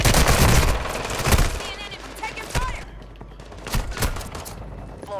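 Rapid bursts of gunfire crackle and boom in a chaotic firefight in the video game Call of Duty MW2 Warzone Resurgence, loud and dense throughout with some overlapping game noise.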